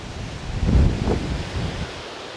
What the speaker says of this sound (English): today's audio might not be very good because of how windy it is